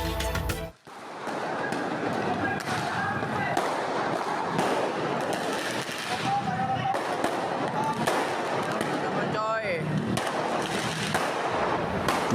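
Firecrackers bursting during a street clash between two groups of youths on Jalan DI Panjaitan in Jatinegara, amid a loud, dense din of crackling pops and thuds that runs nearly throughout, with crowd noise underneath.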